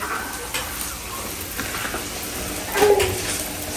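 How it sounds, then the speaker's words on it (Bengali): Eggs fry in a pan with a continuous close hiss and sizzle, swelling into a louder spitting burst near the end, with no talking over it. "খালামুনি এদিকে ডিম ভাজি করতেছে"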